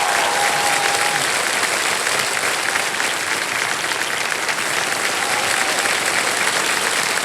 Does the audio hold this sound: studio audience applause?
yes